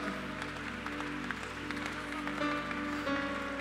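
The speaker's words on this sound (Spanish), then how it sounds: "Apláudalo en esta noche, por favor" A congregation claps during an evangelical church service, with steady, fairly quiet applause beneath sustained organ or keyboard tones.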